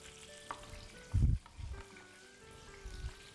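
Pieces frying in butter in a pan: a quiet, steady sizzle with a louder thump and crackle as something lands in the pan, then soft stirring sounds.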